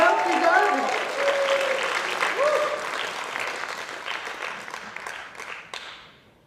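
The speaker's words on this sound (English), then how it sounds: "So give them both a big round of applause." An audience at a fiddlers convention applauds two contest finalists, loud clapping with voices talking over it at the start, then gradually thinning and fading to a few scattered claps.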